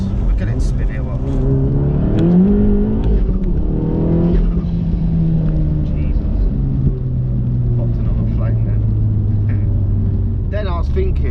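A stage 2 Volkswagen Golf MK7 R with over 400 bhp revs hard and spins its wheels, the engine note rising and falling in loud, close sweeps with a chirp of tyres near the end; a voice shouts over it.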